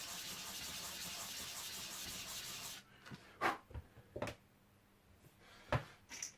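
A pool cue's Prodigy Bullet Break tip is rubbed on sandpaper in a figure-of-eight motion, giving a steady, close gritty scraping that stops partway through, followed by a few sharp handling knocks.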